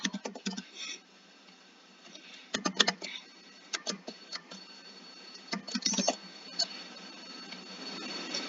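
A password is typed on a computer keyboard in quick clusters of light key clicks with short pauses between, close and fairly quiet over a faint background hiss.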